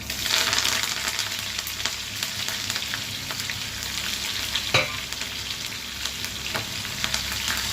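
Onions brown in a hot tempering for drumstick pappucharu, with a steady close sizzle and frequent stirring scrapes, one sharper clatter near the middle and no one talking.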